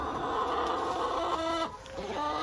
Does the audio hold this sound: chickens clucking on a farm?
yes